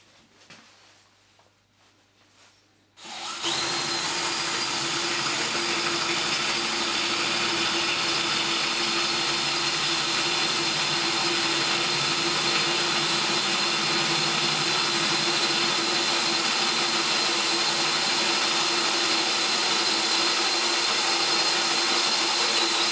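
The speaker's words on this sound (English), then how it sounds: "the 13mm drill bit went through there absolutely no problem at all" A DeWalt DCD796 18V cordless brushless drill with a 13mm bit boring through 8mm-thick steel, starting after a few quiet seconds and then running as a loud, steady, close motor drone without a break to the end.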